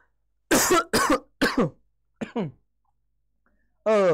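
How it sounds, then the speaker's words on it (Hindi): A few sharp coughs in quick succession, then a short throaty burst and another cough after a brief pause, close to the listener. "खांसी आ जा रही है यार"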